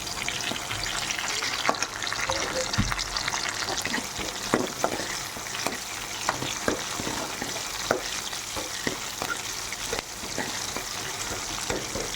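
Mustard seeds, urad dal and chillies fry in hot oil in a pan, a loud, continuous close-up sizzle with scattered crackles and occasional stirring clinks throughout.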